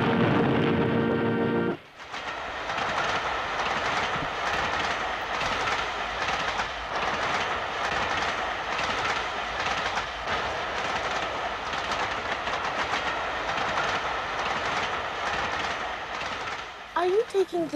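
A train rolls along steadily with a rhythmic clickety-clack and a continuous rumble, close and loud, after a brief quieter opening.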